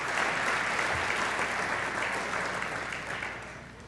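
A crowd at an evening awards dinner gives a steady round of applause, dense and even, fading slightly toward the end of a few seconds.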